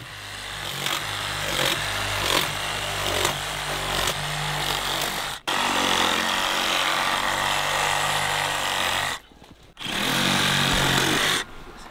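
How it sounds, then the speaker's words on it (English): A reciprocating saw cuts through bison ribs during field butchering, a loud rasping buzz with a rhythmic back-and-forth stroke, running in bursts with a brief stop near the middle and a short pause near the end. "We're just gonna run the sawzall up here to the top of the ribs."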